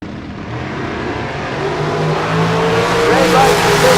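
Drag racing cars at a bracket race strip roar loudly and steadily, and the engine noise builds through the clip. An announcer can be heard talking over it.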